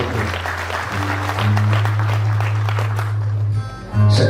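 Wedding audience clapping for the bride's mother, a dense burst of applause over a steady low hum and background music, with a voice speaking briefly at the start.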